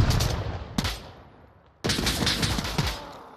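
Gunfire in the VR shooter Onward during a bot hunt: a burst of shots, then a sharp shot followed by a sustained, dense volley with a few distinct louder reports, fairly close and loud, with no talk.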